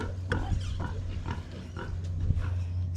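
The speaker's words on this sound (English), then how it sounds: "So I'm gonna come to the pigs, get them their food." Pigs on a small homestead grunt at feeding time while pellets, oats and cracked corn are served, with short repeated grunts over a steady low hum.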